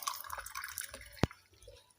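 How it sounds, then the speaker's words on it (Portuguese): Water being added to a sand and polystyrene mixture in a chemistry lab, giving faint trickles and small splashes with one sharp drip-like plop near the middle, all quiet, with no speech. "Após é adicionado água"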